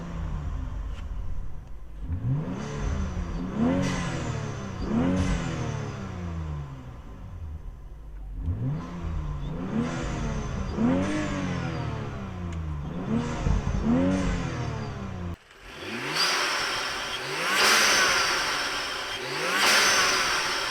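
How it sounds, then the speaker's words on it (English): A car engine fitted with an aluminum BMS intake is revved repeatedly, each rise and fall of the engine note sweeping up and back, in three clusters, the last louder and roughly breathy with induction noise, no voices. "give it a few revs and show you guys what it sounds like"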